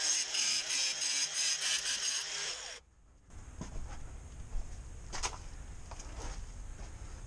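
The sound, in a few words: grinding nails off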